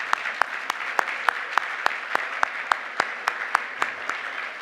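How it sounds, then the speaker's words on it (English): Audience at an awards gala claps in sharp, evenly spaced beats, a steady rhythmic clapping over a soft room hum, moderately loud and without voices. "give them a round of applause"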